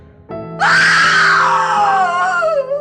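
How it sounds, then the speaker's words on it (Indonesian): A woman's long, piercing scream rises sharply, then slowly falls in pitch over about two seconds, loud and close, after a brief low hum. "dari dalam kobaran api terdengar suara perempuan menjerit panjang"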